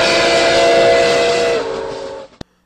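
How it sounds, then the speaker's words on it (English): A steam train whistle blows one long, loud, tonal blast close by. It drops slightly in pitch partway through, then cuts off, followed by a brief sharp knock. "The train is coming!"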